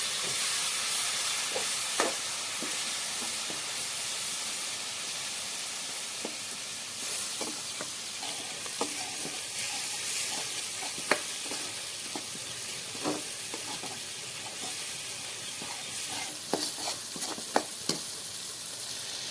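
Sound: onion gravy cooking and being stirred in the pan

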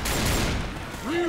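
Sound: pipe bomb exploding in Left 4 Dead 2 video game

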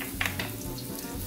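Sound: garlic sizzling as it is added to hot oil

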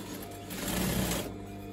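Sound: sewing machine stitching velvet coat sleeve hem

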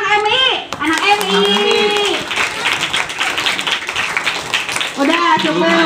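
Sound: audience clapping for the MI children

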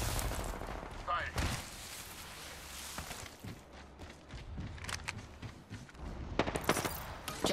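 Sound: gunfire in the video game Apex Legends

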